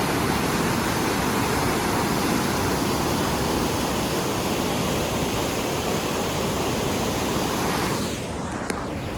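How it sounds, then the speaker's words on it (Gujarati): Water rushes down from a dam in a loud, constant roar that fills every moment, broadband and unbroken, heard close at hand with no voices over it. "ધોધમાર અવાજ આવે છે, ધોધમાર અવાજ."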